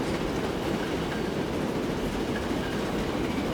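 A train passes in the Transport Fever 2 game, a steady dense rumble with rail clatter holding at an even level throughout, loud and continuous with no talk over it.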